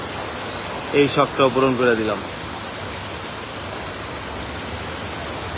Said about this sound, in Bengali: ভরপুর বৃষ্টি, আকাশে মেঘ।